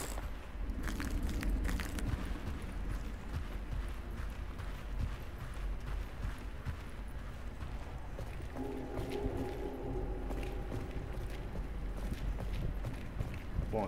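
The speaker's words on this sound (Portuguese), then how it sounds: "Tô me assustando até com o barulho da minha cavalgada aqui" Running footsteps of the player character in the survival horror game Daymare 1998, a steady rapid patter of footfalls that continues through the whole stretch alongside game ambience and background sounds.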